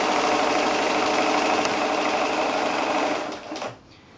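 Domestic sewing machine stitching free-motion quilting, a loud, continuous high-speed whirring hum that runs steadily and then slows and stops near the end.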